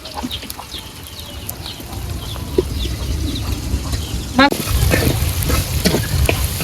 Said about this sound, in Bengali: পেঁয়াজ রসুন টালা হয়ে গেছে বাদামি কালার করিয়া